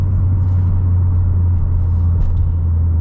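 A 2023 Subaru WRX Limited with a manual gearbox drives along, its steady low engine drone and road rumble constant and close throughout, with no talking.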